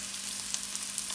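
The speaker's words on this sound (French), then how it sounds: "je fais revenir le tout pendant quelques minutes" Shrimp fried rice sautéing in a pan, a steady, quiet sizzle of frying with faint scattered crackles and no voices.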